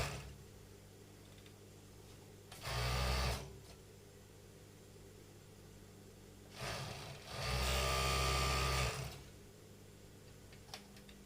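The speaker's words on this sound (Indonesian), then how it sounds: "Jangan lupa sekalian obras kantong sakunya yang tadi belum obras ya" Overlock serger stitching the edge of a garment pocket in two bursts: a short run, then a longer steady whirring run, with a quiet pause between and no talk.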